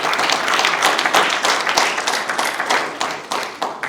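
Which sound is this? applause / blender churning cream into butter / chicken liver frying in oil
applause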